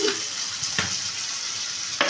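Snake gourd, potato and egg curry with garam masala being stirred in a hot pan, a continuous close sizzle with a couple of sharp scrapes of the spoon against the pan.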